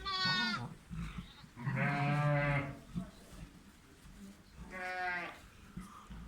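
Zwartbles ewes, pregnant and awaiting lambing, give three loud, close bleats with pauses between, harmonic and wavering, over faint barn background noise.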